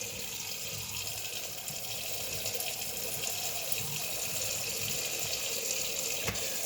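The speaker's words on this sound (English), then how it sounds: "The sink's right here. You can't see it, but I'm going to wash this off a little bit" Tap water runs steadily into a kitchen sink while a knife is rinsed clean of blood, a close, continuous splashing stream with a brief clatter near the end and no voices.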